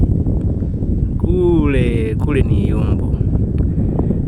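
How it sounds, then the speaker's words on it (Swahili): Strong wind buffets the microphone outdoors on a street near a university campus, a heavy, constant low rumble that continues under a brief burst of talking in the middle. "Upepo ni mkali, kwa hiyo vumilia kidogo"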